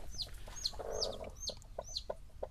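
Newly hatched chicks peep in repeated high chirps while hens cluck low nearby in a farmyard nest area, a busy mix of short calls heard close.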